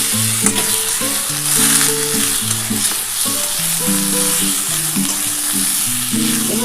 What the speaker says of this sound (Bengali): এবার এটা ভালো করে একটু নাড়াচাড়া করবো।